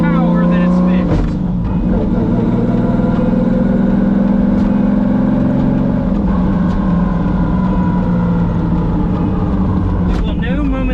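A turbocharged 2JZ engine in a Nissan 240SX drones loudly and steadily throughout, with a voice talking over the sustained engine noise.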